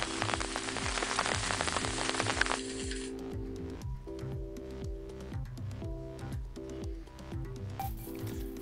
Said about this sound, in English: It had to rain, of course, when it first arrived.